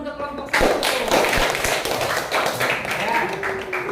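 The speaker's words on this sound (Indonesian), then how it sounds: "Boleh tepuk tangan dulu untuk kelompok 1." A classroom applauding a student presentation group, with clapping from many hands rising suddenly and continuing in an uneven patter over room noise, and a voice briefly audible beneath it.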